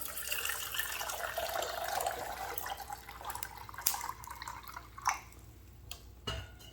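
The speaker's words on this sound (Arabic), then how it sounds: "كتلي أو إبريق أمليه 3-4 ماء." Water runs from a tap into a kettle or jug while it fills, a bright, steady splashing that gradually lowers and gives way to a few drips and light knocks near the end.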